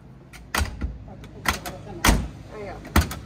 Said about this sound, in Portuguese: Fecha a porta dele, pessoal, veja.